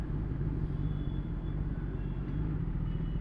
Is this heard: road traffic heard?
yes